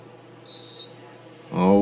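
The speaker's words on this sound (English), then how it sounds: "And we have a whistle." A referee's whistle at a 2019 high school football game between Hartington-Newcastle and Mead gives one short, shrill blast of under half a second, followed moments later by a commentator's voice.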